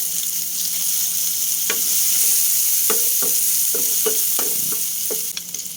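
Ginger and garlic sauté in hot oil for a chicken tinola, giving a steady close sizzle. A string of quick clacks from a utensil striking the pan comes in the second half.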